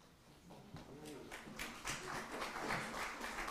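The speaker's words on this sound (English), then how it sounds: "Applause for the story." A congregation at a Sunday worship service applauds after a story is read, scattered claps that build into fuller, quiet applause with some voices underneath.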